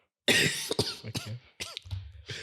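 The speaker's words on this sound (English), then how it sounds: "Man, I'm coughing." A person coughs in several sharp, close bursts with some throat clearing, loud against a quiet room.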